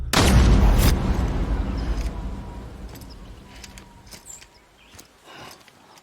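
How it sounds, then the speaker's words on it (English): A single loud, booming gunshot from the video game Death Stranding hits at the start, then rolls off in a long, fading reverberant tail with no voices. "Maybe that was the gunshot even."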